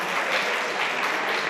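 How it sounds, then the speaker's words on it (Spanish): Audience applause for game developer Ace Team at a GameDev Planet anniversary night event, a dense, steady wash of clapping filling the whole moment without pause. "un aplauso para la empresa"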